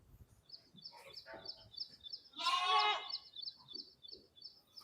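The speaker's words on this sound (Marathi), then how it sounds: "ह्या बाजूला आपले मेंढ्या आहेत" A single loud, wavering bleat rises from sheep, pregnant ewes kept in a shed, while small birds chirp in a quick repeating pattern in the background.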